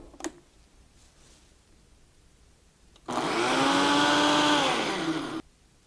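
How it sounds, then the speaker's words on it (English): A blender whirring as espresso is mixed into chocolate avocado pudding, starting abruptly after a faint click, running loud and steady for a couple of seconds, then cutting off. "we finished blending that espresso in there"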